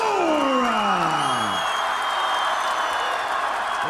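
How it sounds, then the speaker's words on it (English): A boxing arena crowd roars, cheers and applauds loudly and continuously for a fighter's ring entrance, dense and sustained, with a falling electronic swoosh at the start. "As you can hear this crowd, and they are loud for Paul Spadafora."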